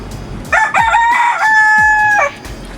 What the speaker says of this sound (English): Pretty rooster.